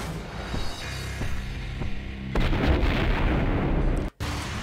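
Grenade explosions and gunfire in the video game Max Payne go off as a series of sharp bangs, followed by a louder, sustained blast with rumbling debris.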